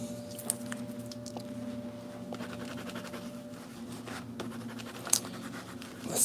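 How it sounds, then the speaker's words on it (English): Water-soluble crayons scratch faintly across sketchbook paper in short, irregular strokes, with soft rubbing and a few light taps against a quiet room hum; no one speaks. "I'm going to add some water soluble crayons now"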